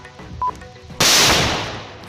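A roadside explosive device in Pulwama's Panjgam goes off in one sudden, loud broadband blast whose roar echoes and slowly decays.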